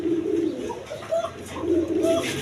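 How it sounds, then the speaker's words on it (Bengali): A pair of Rajgolla and Chila pigeons coo at close range, with several soft, low, throaty coos repeating at an unhurried rhythm over a steady background hum. "এখানে এক পেয়ার কবুতর আছে"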